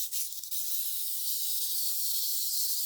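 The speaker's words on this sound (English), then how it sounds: "Gotta get the WD-40 everywhere." WD-40 spray can hissing onto a wind-up mechanical walking toy, a loud, close, steady aerosol hiss that runs continuously for about three seconds.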